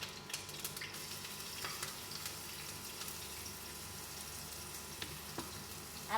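Onions dropped into a pan of frying fish curry give a continuous moderate sizzle with some watery bubbling, steady throughout.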